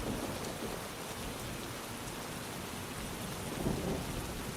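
Steady rain falls on a surface at moderate distance, forming a constant hiss, while low rumbles of thunder roll in the background and swell briefly near the end.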